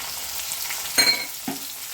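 Shelled green peas dropped into a hot pan with tomato and tempering spices, giving a short burst of sizzle and a spoon clack over a constant frying hiss.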